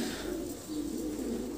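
A white King pigeon coos softly, a brief low, throaty murmuring call that rolls on continuously for under two seconds, faint and alone with no talk.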